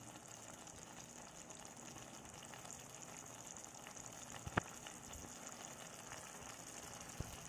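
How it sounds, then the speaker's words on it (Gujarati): Valor bean curry with yogurt simmering on a medium gas flame: a faint, steady bubbling hiss with a couple of brief clicks, quiet and continuous without voices. "તેને આપણે મીડિયમ ગેસ પર ઉકળવા દઈશું."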